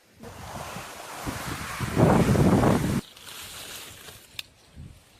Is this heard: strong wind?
yes